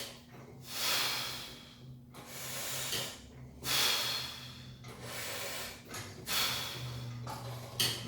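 A man working out on Bowflex weight equipment breathes heavily in rhythmic cycles, about five loud, hissing exhales and snorting inhales spaced roughly a second and a half apart, close to the listener with a low hum underneath.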